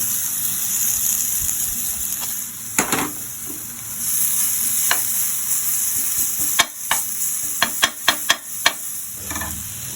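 Onion sizzles and fries in hot ghee with a steady crackling hiss, broken by several sharp clinks of a utensil against the pan.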